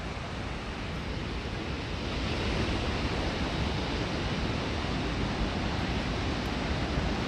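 Steady wind and ocean surf at the Moonstone Beach boardwalk on the coast. A dense, continuous roar fills the whole stretch without a break, and no voices are heard.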